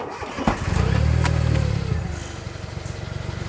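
A Smart ForTwo 450 small car engine cranks briefly and catches, then settles into a steady, even idle, close by and fairly loud with no talking over it.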